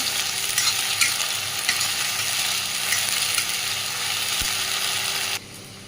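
Ground ginger, garlic, dried chilli and cumin fry in hot oil with a steady sizzle and repeated scraping stirs and clicks from a utensil, until the sound cuts off abruptly near the end.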